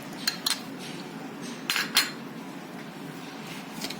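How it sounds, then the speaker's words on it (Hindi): A spoon scrapes and clinks against a bowl while spices are mixed into bhel, a puffed-rice street snack: a few sharp taps near the start and middle, another at the end, with a low steady hum between. "ये सारे मसाले अब हम इसमें मिक्स कर देंगे।"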